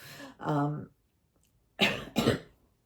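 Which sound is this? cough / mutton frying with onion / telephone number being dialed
cough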